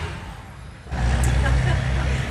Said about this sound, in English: Gotta love big trucks on Main Street.